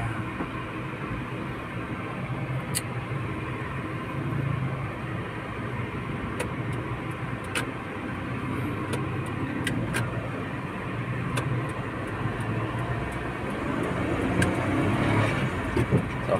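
A Suzuki Transformer with a check engine light and a faulty auxiliary fan drives on a test run, its engine and road noise droning steadily, with occasional faint clicks and no talk.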